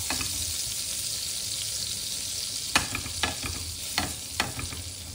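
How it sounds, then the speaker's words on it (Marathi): Pav buns toast in butter in a hot pan, a steady close frying sizzle broken by a few sharp scrapes and taps as they are pressed and turned. "खालची बाजू जी आहे मधली ती आधी भाजून घेणार."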